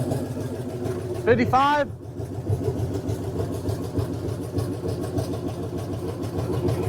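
A truck's new engine idles steadily and close, with a brief rising rev midway before settling back into a rough, even rumble; someone speaks briefly over it.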